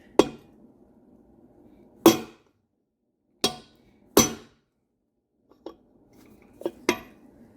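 A hammer whacks a part to seat it in a Ford 8.8 axle during a Nova build. Sharp metallic strikes with short ringing tails come at irregular spacing, about seven in all, four louder and several lighter near the end.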